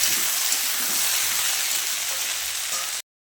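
Garlic fries lightly in a pan for a Bengali fish-head and mixed-vegetable chorchori, a continuous close, bright sizzle held steady for about three seconds before cutting off abruptly.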